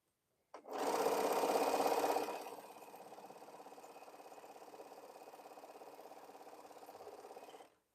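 A sewing machine stitches quilt seams, starting with a louder burst of fast running for about two seconds, then settling into a steady, quieter hum of stitching that continues until it stops near the end, with no talk.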